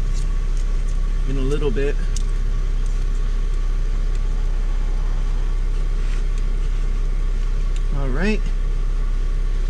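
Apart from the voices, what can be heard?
Honda Civic engine idling in the cold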